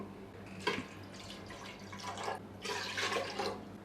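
Water splashes and trickles into a pot of washed lentils in a few short pours, soft and close, with a faint hum underneath.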